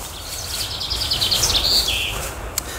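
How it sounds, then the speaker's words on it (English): A bird sings a quick, high trilling phrase over faint background noise in a bluebell wood in the afternoon. "Wonderful bird song this afternoon."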